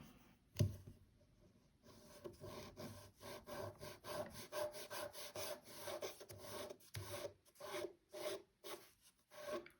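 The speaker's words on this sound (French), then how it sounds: "même si je lime dans les deux sens" Rhythmic rasping strokes of a file shaping a gel nail during a nail repair or extension, steady back-and-forth scraping at a quiet, close level with no talking.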